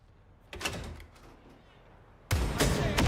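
Two abrupt bursts of gunfire in a video game, one short and one longer and louder near the end, break through a quieter, low background.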